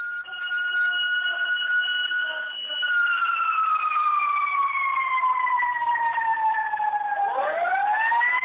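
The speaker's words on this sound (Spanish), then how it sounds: "Tuvieron que simularlo a este sirenazo aquí" A single loud wailing fire station siren holds a long tone whose pitch slowly sinks, then winds back up at the end.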